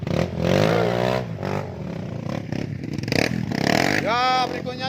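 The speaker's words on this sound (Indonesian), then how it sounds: "Pak Jul, mendaki digas Pak Jul" A racing motorcycle revs hard while climbing a hill during a race in Aceh. The engine whines and rises in pitch loudly and up close, with excited commentary running over it throughout.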